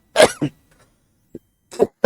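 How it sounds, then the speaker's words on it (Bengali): A few short, dry coughs from a person with a cough during a spoken lesson, close to the microphone, in separate bursts with quiet gaps between them. "আমার একটু কাশি হয়েছে"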